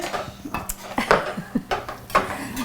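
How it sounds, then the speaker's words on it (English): Kale being chopped on a board in a home kitchen while cooking white bean shakshuka, giving a series of irregular close knife knocks and clatter with no one talking. "Nice chopping, Mia."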